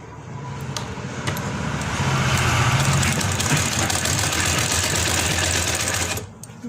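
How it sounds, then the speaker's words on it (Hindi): Sewing machine running steadily as it stitches a kurti seam, a loud continuous mechanical whir with fast rhythmic needle clatter that runs for about six seconds, then stops. "फिर इस पे एक पैर का मार्जिन छोड़ते हुए मैं इस पे सिलाई चला दूँगी"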